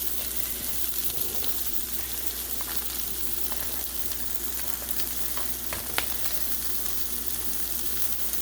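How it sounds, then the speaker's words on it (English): Shiitake, oyster and baby bella mushrooms fry in a pan with a steady, close sizzle that holds at an even level throughout, broken by a sharp crackle near the end. "So next, I am going to add the mushrooms. These are some umami stir fry mushrooms."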